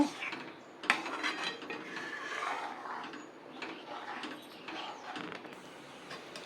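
A coconut filling dough for kozhukattai being stirred in a pan, with close, irregular scraping and clinking of a spoon against the pan running steadily throughout, no talk.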